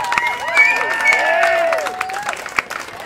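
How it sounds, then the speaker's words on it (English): An audience cheers and claps for two people standing up in the front rows at a live show's series finale. Whoops and shouts ring out over steady clapping for about three seconds. "Round of applause for Rob and Cindy."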